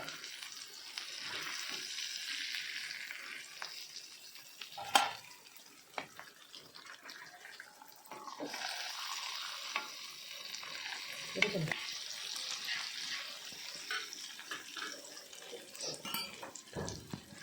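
Fish fry in a pan, a continuous crackling sizzle at close range with occasional clinks and scrapes as the pieces are turned, plus a few louder knocks.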